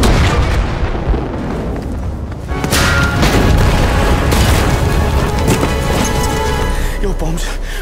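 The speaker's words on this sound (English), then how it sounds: "that's because my bombs went off" Bombs going off in Battlefield V, heavy booming explosions with a rolling roar that swells midway and stays loud, while people talk over the din.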